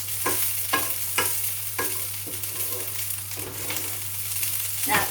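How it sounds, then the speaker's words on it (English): Cumin seeds, garlic and minced meat fry in a pan with a steady sizzle, broken by several sharp scraping stirs of a utensil at a fairly regular rhythm, recorded close up with no talk. "Whilst it's frying, the cumin seeds and the garlic is infusing into the mince."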